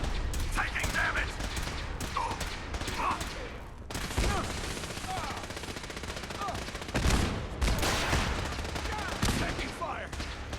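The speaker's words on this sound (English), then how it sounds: "Taking fire!" Dense, continuous gunfire rages through a Fallout 4 battle at Bunker Hill, volleys of shots and bursts overlapping for about ten seconds with brief lulls, while shouted voices break in over the fighting.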